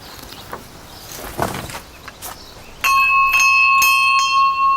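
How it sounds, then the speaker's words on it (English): An old bell doorbell at Chapel Bay Fort, a Victorian coastal fort, rings with clear sustained metallic tones from about halfway through, following a stretch of quiet outdoor ambience with faint rustles. "Classy doorbell."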